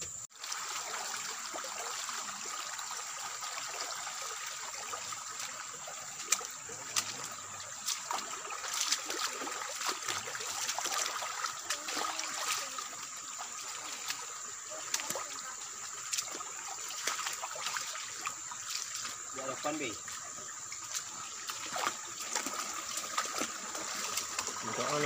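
A river in the Sumatran backcountry flows steadily with a continuous trickling, bubbling wash of water, close and even throughout, with faint scattered splashes and no voices.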